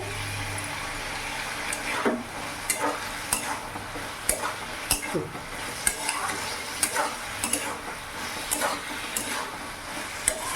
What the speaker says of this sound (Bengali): এবার ভালো করে আমি কষিয়ে নেব।